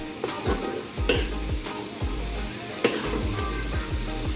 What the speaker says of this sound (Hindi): फिर हल्का सा दबा कर जैसे ब्रेड को सेकते हैं वैसे सेक लेंगे।